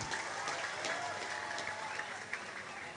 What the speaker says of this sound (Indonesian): Tepuk tangan buat Cici Faramida.